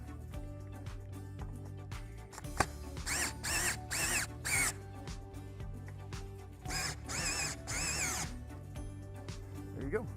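A power drill whirs in two bursts of several short pulses each, driving screws while installing an AmeriGlide Rave 2 stair lift, with a low hum in the background between them.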